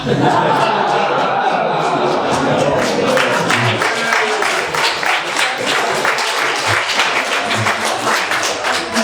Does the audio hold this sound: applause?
yes